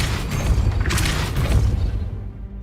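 A Wingardium Leviosa spell effect in Hogwarts Legacy, a loud whooshing, rumbling magical burst with a low boom that swells briefly and then fades away, with no talk.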